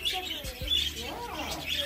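Birds chirp in short tweets close by at a wildlife encounter where birds are held and fly to people, mixed with low rumbling background noise and someone talking.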